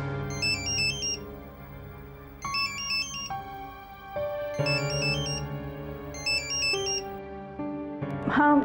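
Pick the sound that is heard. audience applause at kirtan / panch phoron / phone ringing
phone ringing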